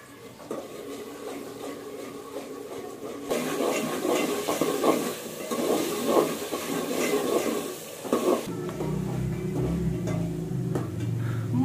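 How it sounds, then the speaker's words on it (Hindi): Hot oil bursts into a loud, steady sizzle as onions hit the pan, crackling for several seconds before settling into a quieter frying hiss. "ऑयल गरम हो गया, अब मैं अंदर डालूंगी प्याज"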